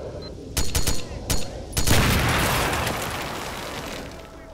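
Enemy gunfire in STALKER: Shadow of Chernobyl: a few sharp shots crack out, then a heavy burst of fire and a boom that rumbles and slowly fades, with no voices over it.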